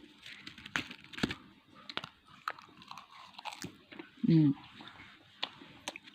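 Crunchy vegetable and rice meal chewed close to the mic, with irregular crisp bites and crunches spaced through the clip, quiet overall, with faint talk in the background.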